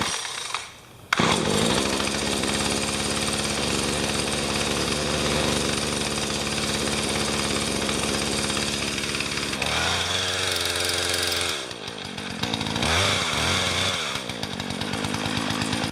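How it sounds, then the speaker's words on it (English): A newly bought chainsaw runs loud and close, its engine holding a steady buzzing roar before it revs and sputters unevenly toward the end. No one speaks over it. "I'm gonna get my chainsaw going."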